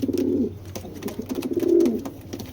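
A pair of giribaz pigeons gives two drawn-out throaty coos close by, a short pause between them.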